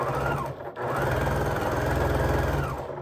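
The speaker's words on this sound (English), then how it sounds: "then I come in here and I sew 1/4 inch away" A sewing machine stitches quilt squares in a fast, even whir of needle strokes, pausing briefly before running on again close and loud.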